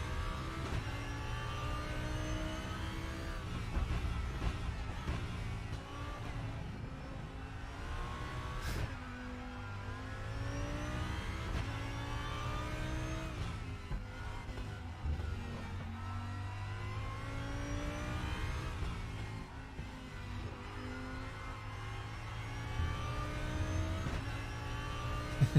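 Callaway Corvette race car engine in the RaceRoom racing game, droning and revving continuously through repeated gear shifts, steady and fairly loud with no talking.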